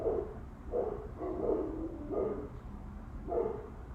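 Faint dog barks come from some distance away, five muffled woofs at uneven intervals over a steady indoor background hum, with nobody speaking.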